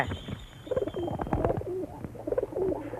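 Domestic pigeons, raised as cherished birds, coo in soft repeated rolling phrases close by, several birds overlapping with wing flutters and light movement noises, and no voices.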